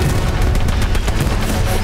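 Covering gunfire in the World War II shooter Hell Let Loose rattles on steadily and densely, shots blending into a continuous, loud clatter with low booms underneath, and no talking.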